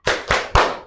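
Three sharp hand claps in a steady rhythm during a classroom clapping game, loud and close, with no talk.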